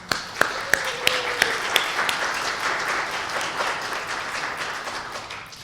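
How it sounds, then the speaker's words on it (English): Graduates of a social work master's program applauding themselves at a hooding ceremony: a few sharp individual claps at first, then steady crowd applause in a large hall. "I would ask you to applaud yourselves."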